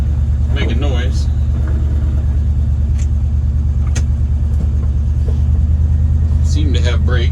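A 1989 Dodge service truck engine runs at a steady, loud low rumble throughout, close by, while people talk over it intermittently.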